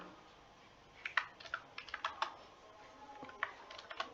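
Fingers type on a computer keyboard in a quiet room, a quick irregular run of light clicks and taps with short pauses, close and fairly soft.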